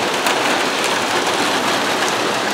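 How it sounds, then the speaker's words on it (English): Rain falling during a storm, a dense, even hiss of drops pattering on surfaces close by, continuous and loud for the whole short stretch with no voices. "looks like we're getting a bit of a storm. It's much needed. We needed some rain."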